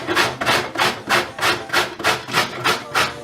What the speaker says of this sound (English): So you grate this one like this to get your coconut, flakes.